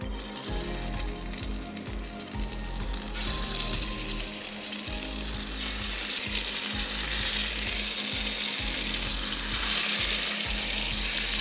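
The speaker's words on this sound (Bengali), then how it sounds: "এটাতে দিয়ে এখন ফ্রাই করব।" Food sizzling steadily in already-hot oil for an iftar snack, a loud continuous frying crackle with a low hum underneath and no voices.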